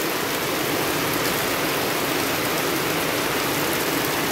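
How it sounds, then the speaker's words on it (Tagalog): Steady rain falls in a rural area near flooded rice paddies, a continuous dense hiss without breaks, loud and close, with no voices. "Tagal tumuhila ng ulan po"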